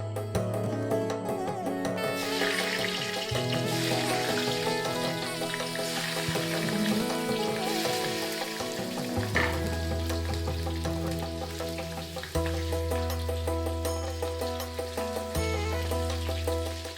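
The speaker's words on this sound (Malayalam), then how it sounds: "അപ്പോൾ നമ്മുടെ ഈ മുളകിനെ നന്നായിട്ടൊന്ന് മൊരിച്ചെടുക്കണം, കരിയാൻ പാടില്ല." Chilies frying in hot coconut oil in a heated pan over a low flame, making a steady, fairly loud sizzle that continues throughout, with occasional faint clinks.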